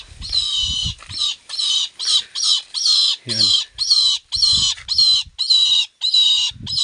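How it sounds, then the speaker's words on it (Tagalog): Young tethered hawk (lawin) giving a rapid series of harsh, screechy squawks in repeated bursts, loud and close, with brief low voices in between. "Lawin na hinahanap natin."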